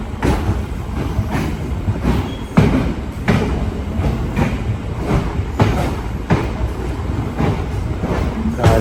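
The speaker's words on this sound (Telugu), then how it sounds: "ట్రైన్ సౌండ్స్ ఒక్కటి డడక్ డడక్ అని వస్తుంది." A MEMU express train running on rails between Narsapur and Bhimavaram, loud and close with a continuous rumble and regular clattering wheel beats over rail joints.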